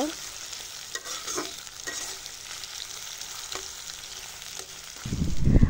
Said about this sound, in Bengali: এখন পেঁয়াজটাকে ভেজে নিচ্ছি পেঁয়াজের কালার চেঞ্জ হওয়া পর্যন্ত।